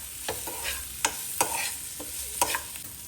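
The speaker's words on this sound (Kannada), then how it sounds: "ಈರುಳ್ಳಿ ಗೋಲ್ಡನ್ ಬ್ರೌನ್ ಆಗೋವರೆಗೂ ಫ್ರೈ ಆಗಬೇಕು." Onions frying for chitranna, Karnataka-style lemon rice, with sharp scrapes and taps of a spoon stirring against the pan over a soft, low sizzle.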